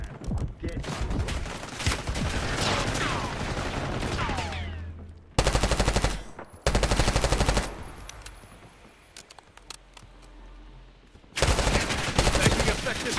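Heavy automatic gunfire in a military shooter video game comes in loud sustained bursts, separated by brief quieter gaps.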